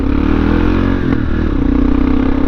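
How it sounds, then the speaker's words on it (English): A motorcycle with an aftermarket exhaust rumbles loud and close, a continuous throaty engine note with a slight rev change midway, no voices. "Especially with this aftermarket exhaust, it sounds so good."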